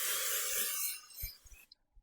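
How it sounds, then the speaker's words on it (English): Cooking spray hisses onto a casserole dish in a single close, steady burst of about a second, fading out, followed by a few soft knocks and clunks of the dish being handled. "I'm going to spray my casserole dish"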